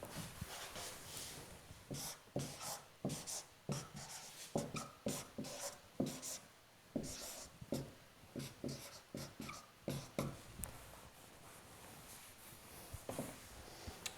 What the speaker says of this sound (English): Let me write it somewhere else.